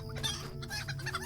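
A chicken in the online game Lord of the Rings Online clucks in a quick series of short, close, rhythmic cackles over a low steady background drone.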